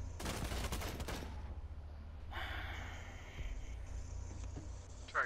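Rapid bursts of gunfire from the video game Rainbow Six Siege, with a dense volley in the first two seconds and then quieter in-game ambience and a few scattered sounds.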